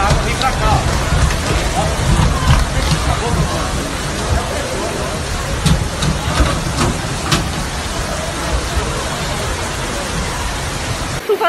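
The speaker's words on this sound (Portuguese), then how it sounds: "Chuva tá chegando aqui." Dense, hissing downpour fills a street during flooding in Brazil, a heavy rain roar with voices faintly mixed in the background.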